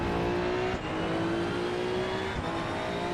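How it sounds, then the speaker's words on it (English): Race car engine in the Assetto Corsa EVO racing game, a loud steady drone with sustained pitch held at high revs, a brief dip as it shifts, continuing close and alone without talk. "All I hear is the car engine, music."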